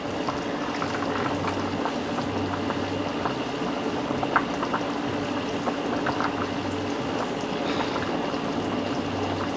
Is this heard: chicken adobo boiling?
yes